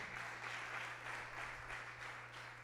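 A church congregation applauds during a Spanish-language sermon, a soft, distant wash of clapping with slight pulsing swells over a low steady hum.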